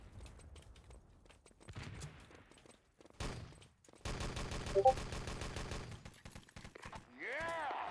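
Video game gunfire in a shooter, a sustained burst of rapid automatic fire in the middle after scattered shots, with game sounds and a voice talking around it.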